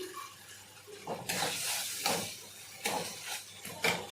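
Ginger paste and turmeric sautéing in a pan for prawn malaikari give off a soft, close sizzle, with a few louder bursts of frying hiss and spatula stirring, all fairly quiet and with no talking.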